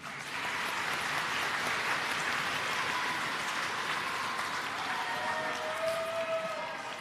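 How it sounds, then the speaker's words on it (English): An audience at the North South Foundation 2019 finals claps in a sustained, even wash of applause at moderate distance, with a faint tone drifting in near the end. "So we will give you a big round of applause."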